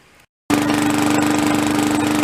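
A freshly repaired lawn mower engine catches after a short silence and runs loud and close, with a steady rapid chugging and a constant whine. No one talks.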